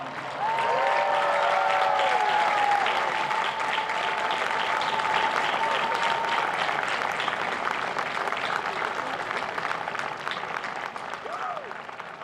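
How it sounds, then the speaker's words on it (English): Graduating university students, standing and turned toward the crowd at an outdoor commencement ceremony, give a long sustained round of applause, broad and even, with cheering tones rising over the clapping early on before it slowly thins. "give a huge round of applause to those who helped you on this journey"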